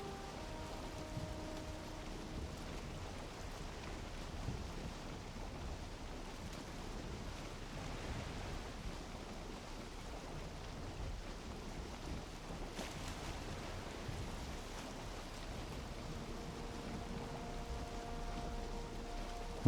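Wind and waves while sailing a boat in the Valheim video game, a steady wash of rushing water and gusting noise, even and continuous with no talking.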